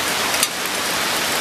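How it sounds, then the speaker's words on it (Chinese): Heavy rain pours down over rice paddies in a steady, dense hiss, loud and close throughout, with no voices. "暴雨啊，"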